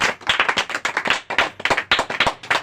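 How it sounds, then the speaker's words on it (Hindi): A church congregation at a group prayer service claps loudly and steadily in praise, a dense run of close, sharp handclaps with no talking. "जोर से ताली बजा के तारीफ करेंगे"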